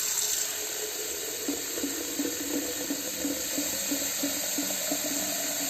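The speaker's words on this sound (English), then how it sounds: "The jar is being refilled." Fresh cold water runs from a tap into a glass jar, a steady hissing stream with soft gurgling as it fills, heard close and alone.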